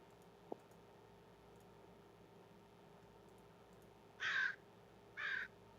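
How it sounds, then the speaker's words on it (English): Outdoors, a bird gives two loud, harsh crow-like caws about a second apart, following a quiet stretch with a single faint click near the start. "Is that a bird?"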